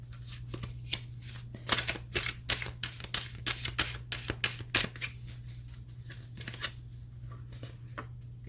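Tarot cards shuffled by hand in a steady run of crisp riffling flicks and soft slaps, close and fairly quiet over a low steady hum, with no talking.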